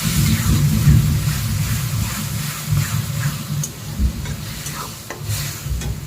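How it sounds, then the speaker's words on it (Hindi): Raw spices and tomato puree frying in a pan, a steady close sizzle with scraping stir strokes throughout, no talking. "अब इन कच्चे मसालों को भून के हम तैयार कर लेते हैं"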